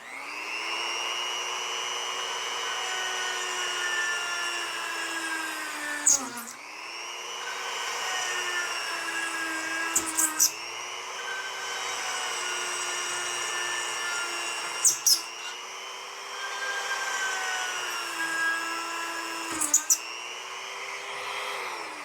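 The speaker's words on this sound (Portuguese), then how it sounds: "E a broca para furar madeira agora? Será que fura tranquilo?" Hanabi 135W micro rotary tool drilling into wood with a drill bit, a steady high whine running continuously with brief dips and small clicks every few seconds, close and alone without speech.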